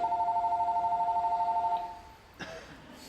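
An electronic telephone ring sounds on stage during a high school spring musical, a steady buzzing trill lasting nearly two seconds before cutting off, followed by a brief knock and quiet room tone.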